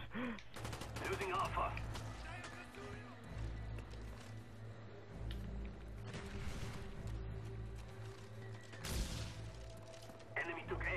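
Rapid bursts of automatic gunfire and single shots from a Call of Duty Black Ops multiplayer match crackle throughout, loud and dense with brief pauses, while players talk over the fighting.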